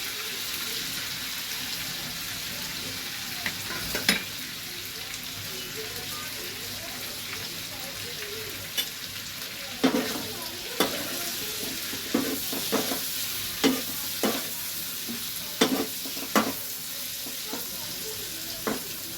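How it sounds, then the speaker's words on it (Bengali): Paneer cubes tossed in a hot, lightly salted pan for pulao, a continuous sizzle with repeated sharp spatula scrapes and knocks that grow more frequent in the second half, close by, with no talking. "এইবারে পনিরগুলো এতে দিয়ে আমি ভালো করে টস করে নেব"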